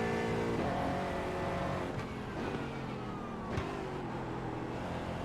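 An Aston Martin GT4 race car engine in the iRacing sim at Winton Raceway, droning steadily and close with rising and falling revs through gear changes, with no talking.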